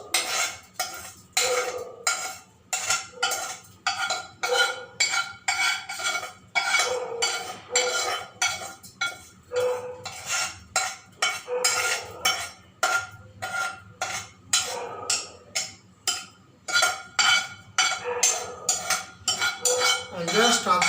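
Semiya upma, a vermicelli dish, is scraped out of a pan into another vessel with a spoon, making quick rhythmic clinks and scrapes of metal against metal that repeat steadily at close range.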